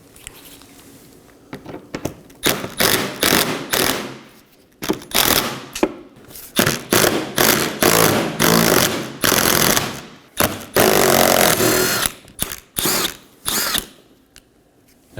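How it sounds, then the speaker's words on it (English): A power tool, likely a drill, buzzes and rattles in quick repeated bursts as 10mm screws come out from under the front bumper of a 2015-2023 Nissan Maxima, loud and close with brief pauses between runs, with no talking. "we're going to locate 5 10mm screws and remove those as well."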